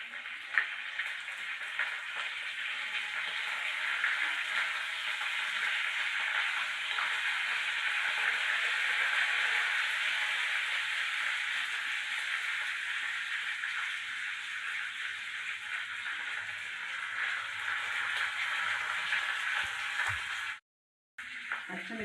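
Cumin, mustard seeds and curry leaves sizzle in hot oil, a steady close hiss that holds evenly for about twenty seconds before cutting out briefly near the end.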